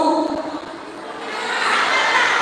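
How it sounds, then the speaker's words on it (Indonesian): An audience at a Batak clan Pesta Bona Taon gathering in Bandung claps and cheers, with crowd noise swelling toward the end and loudest in the last second. "Tepuk tangan."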